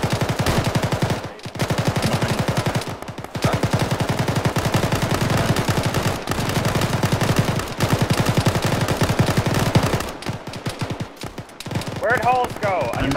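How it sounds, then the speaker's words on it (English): Sustained suppressive machine gun fire in a military shooter game, dense rapid bursts hammering almost continuously with brief pauses, loud and close, with voices talking over it. "Let's get some suppressive fire out there"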